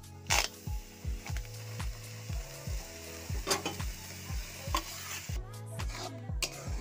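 Jujube juice is stirred in a dry wok with a spoon or spatula scraping the pan in a quick, repeated rhythm, close and fairly quiet over a soft bubbling sizzle.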